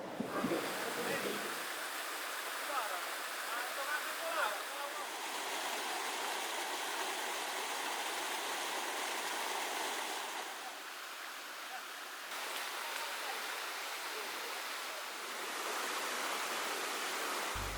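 The Mapanegaya waterfall gives a continuous, steady rush of falling water, broad and even in tone, with no break over the full stretch.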